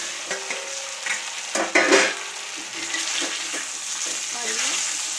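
Rice flour dumplings frying in oil with cumin, a continuous sizzle with spoon scrapes and stirring clatter near the start, then a steady even crackle throughout, no talking.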